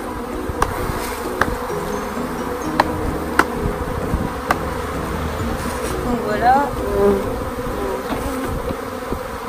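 Honey bees buzz around a beehive that has just been shaken, a busy insect drone with scattered individual bees passing close, while a person speaks briefly.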